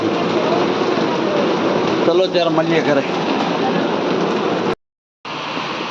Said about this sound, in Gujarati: વરસાદ જોઈ શકો છો કેવો પડે છે